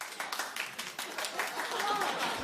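A small television studio audience of a few people claps sparsely, light uneven claps that blend into a steady patter, fairly faint, under voices talking.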